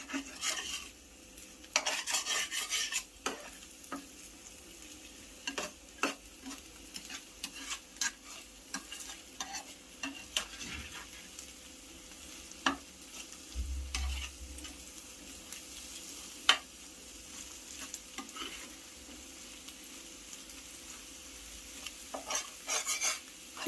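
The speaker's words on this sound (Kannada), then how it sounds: "ಫಸ್ಟ್ ನಾವು ಎಗ್ನ ಈ ಥರ ಫ್ರೈ ಮಾಡಿಕೊಂಡ್ರೆ ತುಂಬ ಚೆನ್ನಾಗಿರುತ್ತೆ" Egg is fried and stirred in a pan for egg fried rice: a soft, steady sizzle with intermittent scraping and tapping of the utensil against the pan, quiet and close.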